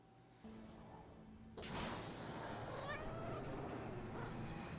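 A cat meows a few times amid a busy show soundtrack, its voice rising briefly over music and effects with faint talk around it.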